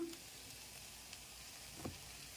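Potatoes frying in a pan with coriander powder and chilli powder give a quiet, steady sizzle, with one brief louder stir or clatter near the end and no talk.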